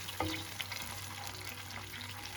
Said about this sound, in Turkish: Salça da şöyle biraz kavrulduktan sonra gözünün açılması için yarım çay bardağı suyu ilave ediyorum